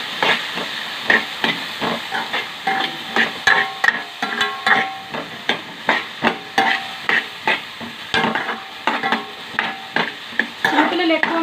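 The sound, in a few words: stirring Maggi noodles with vegetables in a pan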